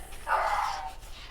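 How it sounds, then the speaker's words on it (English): A single dog bark heard indoors at moderate distance, a short sharp yelp standing out against a quiet background. "sorry if you can hear my dog barking."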